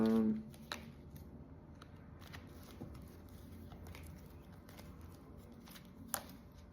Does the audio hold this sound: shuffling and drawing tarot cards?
yes